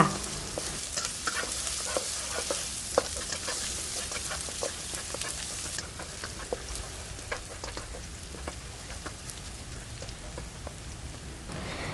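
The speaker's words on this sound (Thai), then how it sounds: "พอน้ำมันเริ่มร้อนเราใส่กระเทียมที่ตำไว้ ลงไปเจียวค่ะ" Crushed garlic frying in hot oil in a pan makes a steady, dense sizzle with scattered sharp pops and crackles, holding near-constant loudness throughout with no talking.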